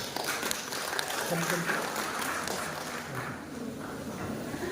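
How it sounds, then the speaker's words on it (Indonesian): Audience applause fills a hall at a regional association meeting, a continuous dense patter of many hands held at a moderate, somewhat distant level, with voices mixed in. "Mari kita beri tepuk tangan yang meriah"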